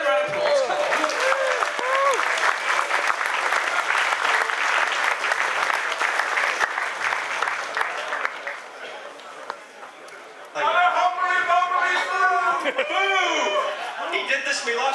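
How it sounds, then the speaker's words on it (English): An auditorium audience at an Auto Assembly 2010 convention session claps loudly and steadily, with scattered cheers and chatter mixed in. The clapping dips briefly, then swells again as voices and laughter rise. "Give that a round of applause."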